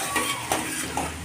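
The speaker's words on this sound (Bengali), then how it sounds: "এবার আমি পেঁয়াজগুলো দিয়ে দিচ্ছি।" Onions sizzling as they hit hot oil already seasoned with cumin and whole garam masala for a chicken curry, a steady close fry with a few brief stirring scrapes, no talk.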